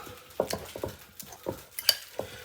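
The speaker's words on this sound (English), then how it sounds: "just give it a little mash with a fork" A fork mashes avocado into a chunky spread, giving soft, wet squelches and light taps at an irregular rhythm, about eight quiet strokes close by in a calm kitchen.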